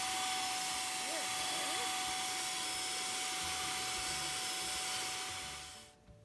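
A paint sprayer sends purple paint onto an IKEA daybed: a steady, loud, airy hiss with a motor whine that runs unbroken for about six seconds and then cuts off abruptly.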